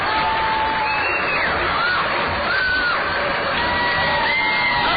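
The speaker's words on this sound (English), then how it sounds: "Listen to the crowd." A minor-league baseball crowd at a Burlington Bees versus Cedar Rapids Kernels game roars in a steady, dense wash of cheering, whoops and shouts that carries through the whole stretch without a break.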